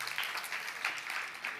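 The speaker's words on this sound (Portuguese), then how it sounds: "Você pode aplaudir o Senhor" Church congregation applauding during a worship service, a steady wash of many hands clapping at moderate distance, fairly even throughout with no voices standing out.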